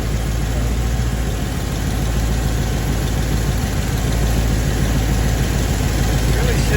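Mopar 440 six-barrel engine idling on the last fuel left in the line, a steady loud rumbling run with continuous low vibration throughout, close by.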